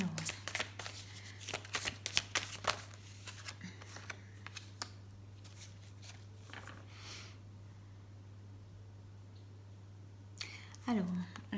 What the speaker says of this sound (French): je tire les cartes en même temps